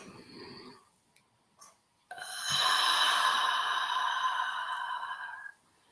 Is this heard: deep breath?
yes